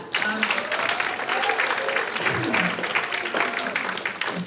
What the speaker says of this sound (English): I have pause for applause.